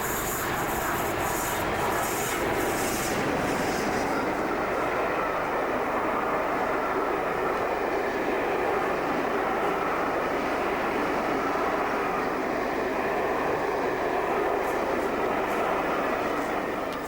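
An Orient Express train rumbles past steadily at close range, a continuous broad roar with some high metallic hiss early on, no voices.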